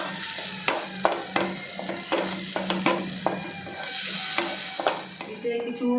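Food frying in a pan, a busy sizzle broken by repeated scraping stirs and clinks at an uneven rhythm, fairly loud and close.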